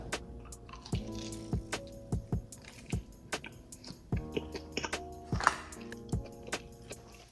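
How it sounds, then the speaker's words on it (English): Sauce going onto a Chili's triple dipper snack of mozzarella cheese bread, heard as soft close-up squishes, drips and light clinks in an irregular run of quiet sounds with no talking. "Let me put the sauce on it."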